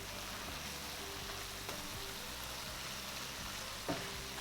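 Beef empanada filling cooks in a pan with a soft, steady frying sizzle, quiet and continuous, with a few faint clinks and no talking.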